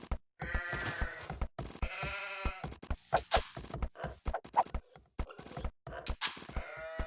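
Sheep bleat repeatedly in a video game, a series of close, clear bleats spread across the clip and heard alone, without talk.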